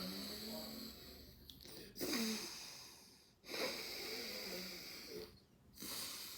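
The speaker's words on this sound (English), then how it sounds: "block the left and exhale through the other nostril" During alternate nostril breathing practice, long, airy exhales through one nostril come in a slow, repeated rhythm, each one close and breathy with soft hiss and quiet pauses between.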